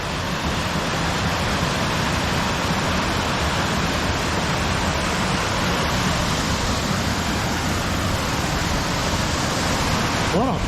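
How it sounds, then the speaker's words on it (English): A waterfall in the Wood of Cree pours continuously, a loud, dense, unbroken rushing roar close by that stays even for the whole stretch with no break. "Another beautiful waterfall."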